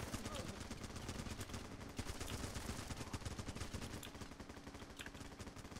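Rapid automatic gunfire from the Running with Rifles video game crackles in fast, dense bursts, a steady rattling barrage at moderate distance with voices talking faintly underneath.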